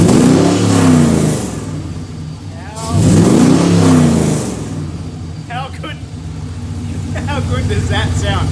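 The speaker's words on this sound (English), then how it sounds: "I just want to show you what Missfire sounds like now." An LS1 V8-swapped AE94 Toyota Corolla with new 3-inch dual exhaust revs loudly nearby in two sharp bursts that fall back to a rumbling idle, with a lighter blip near the end.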